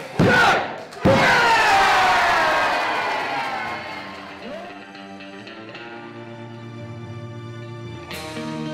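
A wrestling match crowd bursts into a loud roar of shouts and cheers that rises, then slowly fades into a sustained murmur. A low, tonal hum sits beneath the crowd near the end.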